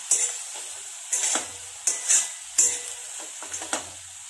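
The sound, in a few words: curry leaves frying in oil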